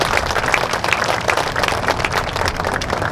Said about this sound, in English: Can we have a round of applause, please, for the Orange City Color Guard